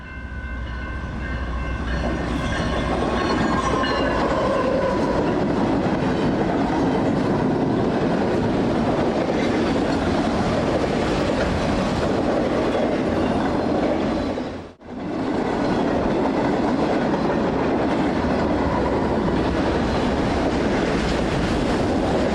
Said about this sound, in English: The first one was an eastbound manifest with a colorful lash-up.